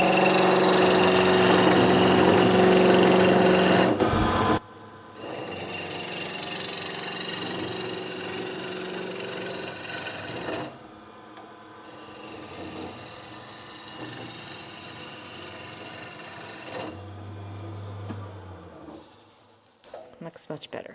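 A wood lathe spins a wooden mortise-and-tenon piece with a steady motor hum and whirring tone, changing at intervals as the tool engages and the machine slows, then stops near the end.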